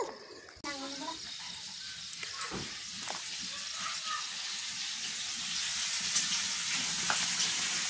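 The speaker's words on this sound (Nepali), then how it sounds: "मासु पकाएको रहेछ।" Pork sizzling and frying in a pan in a home kitchen, a steady bright hiss with soft crackles that grows slowly louder, starting after a sudden cut.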